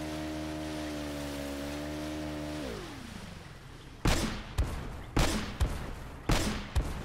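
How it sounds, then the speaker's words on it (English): Gunfire in Uncharted: Drake's Fortune as a woman shoots, several sharp loud bursts in an uneven rhythm following a steady droning hum that fades out. "the woman is shooting"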